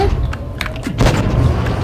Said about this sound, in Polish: Bardzo ładny strzał.